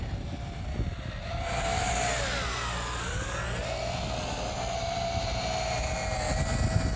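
A small Revell Hexatron multicopter drone buzzes overhead with a high whining hum, its pitch rising and falling as it moves about, steady and fairly close.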